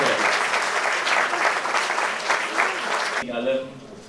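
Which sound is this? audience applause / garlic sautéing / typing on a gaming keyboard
audience applause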